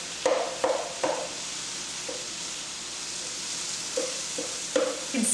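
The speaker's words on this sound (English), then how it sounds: "Oh, I hear that ground meat sizzling." Ground meat sizzles steadily in a pan, with a constant hiss broken by several scraping, clattering stirs of a utensil against the pan.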